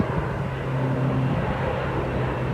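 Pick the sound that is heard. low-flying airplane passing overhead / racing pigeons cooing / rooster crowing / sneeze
low-flying airplane passing overhead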